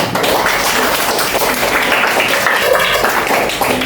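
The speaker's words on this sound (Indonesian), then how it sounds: "tepuk tangan buat semuanya" A classroom of students claps together, loud and continuous, a busy rattle of many hands close by with no pauses.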